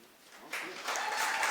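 Applause breaks out from the audience at an Entente Florale Europe prize-giving ceremony, rising from quiet into a steady wash of clapping that grows louder toward the end.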